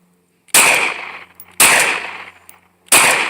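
Three loud, sharp Glock pistol gunshots fired outdoors, each a sudden blast with a short ringing tail, spaced about a second or more apart.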